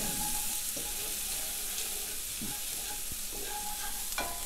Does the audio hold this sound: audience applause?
no